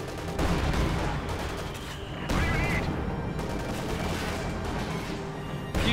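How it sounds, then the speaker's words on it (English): Gunfire rakes a Tiger tank in the WWII strategy game Company of Heroes 2, with dense overlapping shots and crashes forming a loud, continuous battle roar with no pauses. "A few shots penetrating there, most likely through the driver's fishing slit and other smaller, more vulnerable bits"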